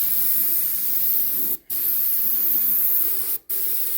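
A small detail airbrush sprays paint in a steady, close hiss, cut by two brief pauses as the trigger is released, with no talk.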